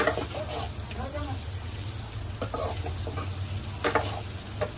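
Peeled boiled potatoes fry in a pan, giving a steady sizzle with stirring clatter up close, while a voice talks over it.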